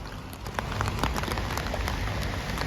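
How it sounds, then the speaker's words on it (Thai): Steady heavy rain pouring down on a train crossing the Rama VI Bridge in Bangkok, a dense continuous hiss with scattered louder drops pattering on a surface nearby. "ฝนตก นะฮะ"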